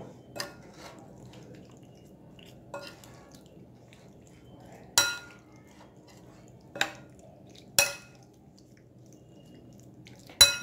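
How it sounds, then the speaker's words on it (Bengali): Chicken pieces are mixed by hand or spoon with ginger and garlic juice, black pepper and salt in a bowl, giving a few sharp, spaced clinks and soft wet squishes over a quiet background. "এইবারে ভালোভাবে আমি সমস্ত কিছু মিশিয়ে নেব।"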